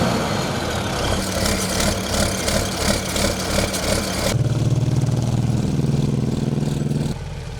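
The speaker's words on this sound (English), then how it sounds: "he decided to come to school on his tractor." A tractor's heavy engine runs steadily, a low chugging rumble that shifts in tone partway through, then eases near the end.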